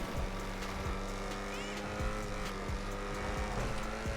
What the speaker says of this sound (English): The XA21 is all-wheel drive, and this vehicle has a top speed of 122 miles per hour